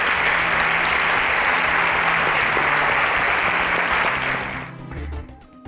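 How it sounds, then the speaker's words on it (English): A studio audience on a TV innovation competition show bursts into loud, sustained applause that fills the space for several seconds before thinning out and fading near the end. "A round of applause for him as he exits the show."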